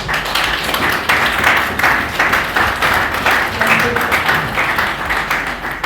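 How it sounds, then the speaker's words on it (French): Audience applause for a trainer at a formal thank-you ceremony in DR Congo, a steady wash of many hands clapping together for several seconds, fairly loud and close, with faint voices mixed underneath. "On va applaudir pour M. Ngouzé"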